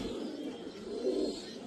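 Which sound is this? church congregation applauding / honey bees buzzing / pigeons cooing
pigeons cooing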